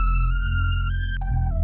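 A short flute-like synth phrase in a trap beat holds steady, then slides down in pitch as the pitch wheel bends it lower, over a deep bass tone; clean and up front, without talk.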